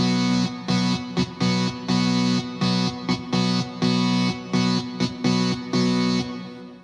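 Kemper amp stack guitar tone with added reverb, playing a loud distorted chord riff in short rhythmic bursts with brief gaps, each stab ringing with a spacious tail.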